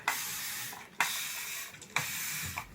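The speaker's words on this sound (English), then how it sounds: "just take your spray bottle and spray it some more" A spray bottle spritzes water onto braided hair three times at a steady pace, each quick hissing burst close and fairly quiet.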